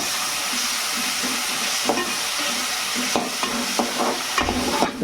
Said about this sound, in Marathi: त्याच्यात आपण कांदा टाकून घेऊ आणि लगेचच टॉमॅटो टाकून घेऊ हे दोन्ही एकदम शिजून जाते